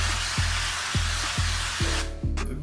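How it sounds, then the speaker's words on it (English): Avocado oil cooking spray hissing steadily into a pan for about two seconds, close and loud, with faint low thumps beneath, then cutting off abruptly. "I'm gonna put some avocado spray."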